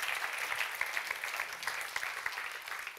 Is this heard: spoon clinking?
no